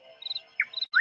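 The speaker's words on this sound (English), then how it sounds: "Okay, you can stop being a creepy bird." A bird gives a quick series of thin, high chirps and short whistled notes, faint and spaced out over about a second, ending in a slightly louder call, with no voices.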